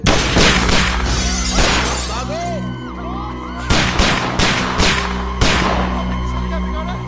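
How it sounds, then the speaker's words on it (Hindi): Sharp gunshot cracks burst out in quick clusters in a Hindi action film scene, loud and close, with echoing tails and a low rumble between volleys. "लगता है कोई गोली चला रहा है हम पे।"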